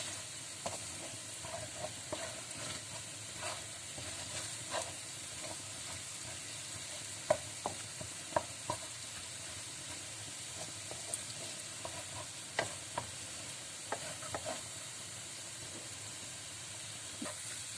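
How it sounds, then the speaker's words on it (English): Egusi melon seeds toast in a pot with a little oil, a steady close sizzle and crackle running throughout, broken by occasional scrapes and taps of a stirring spoon. "I'm turning the egusi. You see, egusi is now toasting."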